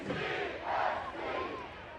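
Loud football crowd at a Detroit City FC home match against Las Vegas Lights FC, a dense roar of voices chanting steadily throughout, swelling midway, with no clear speech over it.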